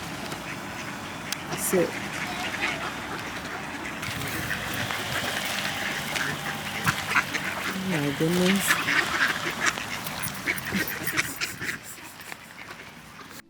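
Ducks quack repeatedly in a lively group near a waterside walking route in Märsta, their calls rising in a cluster midway through, over steady outdoor ambience while people talk nearby.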